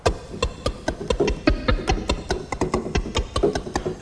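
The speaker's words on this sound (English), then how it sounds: "and can be used to produce some clicking sound, maybe in an organ patch" The organ click wave on a Roland JV-1080 synthesizer plays as a quick train of sharp, evenly spaced clicks, about four per second and close-sounding, with no voice over them.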